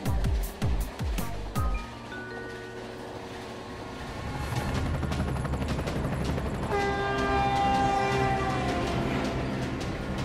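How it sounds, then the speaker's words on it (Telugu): Cartoon train in an animated Telugu children's Christmas special: loud rumbling rail noise builds after a few sharp opening bangs, with tonal horn-like lines sounding over a steady rolling roar that stays close and full. "ట్రైన్ అక్కడుంది."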